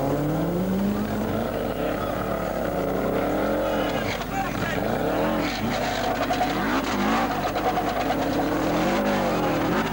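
Subaru Legacy Turbo rally car wheelspinning for grip on a rally stage near the start, engine revving and wavering continuously with tyre scrabble, loud and close, with commentary voices running underneath.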